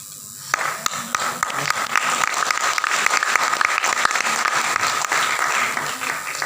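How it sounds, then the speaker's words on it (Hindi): A crowd in the audience claps loudly and steadily for several seconds, a dense wash of applause that starts abruptly and holds at an even level. "तालियां होनी चाहिए।"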